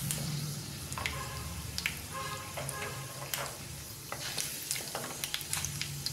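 Paneer fries in oil in a pan, a steady crackling sizzle with scattered stirring clicks and scrapes, close and moderately quiet, no talking.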